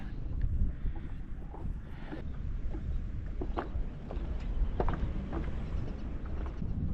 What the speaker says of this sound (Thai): ไม่ไหวลมพี่น้องลมแรงเกิน